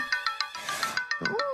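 A phone ringtone chimes in a steady repeating pattern of short bursts, loud and close, briefly blurred by a noisy swell in the middle and followed by a rising warble near the end.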